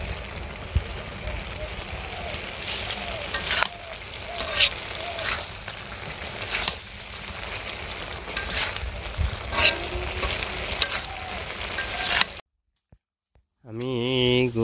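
Vegetables sauté and sizzle in a pan with a crackling hiss and occasional stirring knocks, while people talk over it. Near the end the sound drops into a short silence.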